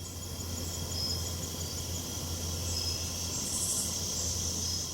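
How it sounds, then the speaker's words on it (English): Crickets and frogs at dusk in Hoosier National Forest, southern Indiana, forming a steady, continuous high-pitched chorus that stays fairly faint and even throughout, with no voices. "Now I start to hear some frogs and crickets."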